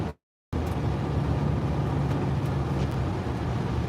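A 2008 Ford Fusion with a replacement transmission drives along with a steady broadband road and engine drone, heard from inside the cabin after a brief dropout at the start.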